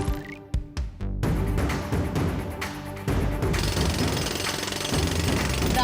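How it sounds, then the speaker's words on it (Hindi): Heavy mechanical drilling from a cartoon robot boy's drilling suit, a loud continuous rattling hammering roar that starts after a few sharp hits and runs steadily to the end. "दादाजी मैंने ड्रिलिंग शुरू कर दी है।"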